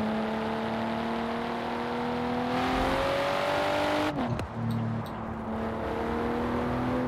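A Volvo V60 engine in the racing game Forza Horizon 4 hums and revs steadily, its pitch climbing before a sharp gear shift or lift-off and then settling into a lower, continuous drone. No voices are heard.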